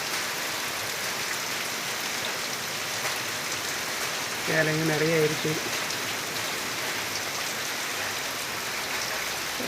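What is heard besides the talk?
heavy rain falling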